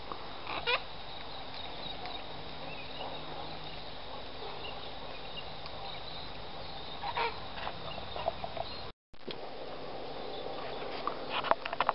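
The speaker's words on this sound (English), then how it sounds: "So there's a cockatoo up there." A sulphur-crested cockatoo perched high in a tree outdoors gives faint, distant harsh screeches over a low, steady background of insects and ambient noise.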